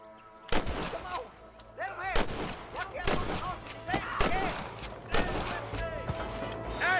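Gunfire in the Western video game Red Dead Redemption: a series of sharp, loud shots at irregular intervals, mixed with game effects and ricochet-like whines, with people talking under it.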